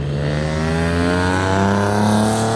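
Maserati sports cars revving at a cars-and-coffee meet outside an IKEA, a loud, steady engine roar with strong harmonic tones rising gradually over a few seconds, close by and with no voices.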